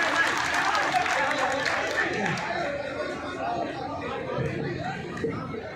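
An audience at a mushaira, a poetry gathering, welcomes a poet with a sustained wash of clapping and crowd chatter, steady and fairly close, gradually thinning toward the end.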